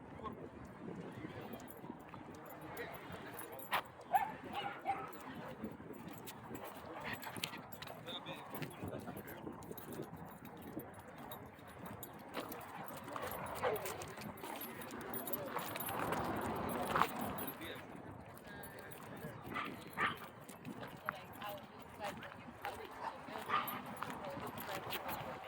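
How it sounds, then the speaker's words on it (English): Several dogs bark in scattered bursts near and far at a busy dog park, mixed with jangling and movement, while people talk throughout. "this is definitely more dogs than usual"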